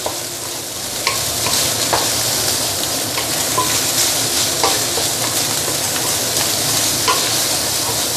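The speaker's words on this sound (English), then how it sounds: "stir fry them." Rice and egg stir fried in a stainless steel wok: a loud, constant sizzle runs throughout, dotted with frequent light scrapes and taps of a spatula against the metal, with no speech.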